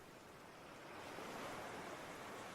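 Ocean waves washing up a beach over footprints in the sand, a soft, steady surf wash that swells slightly louder partway through, fairly faint and continuous with no voices.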